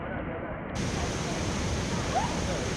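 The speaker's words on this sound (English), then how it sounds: "a waterfall." A large waterfall on a hiking trail in Puerto Rico gives a steady, broad rushing roar of falling water, constant and fairly loud throughout with no clear breaks.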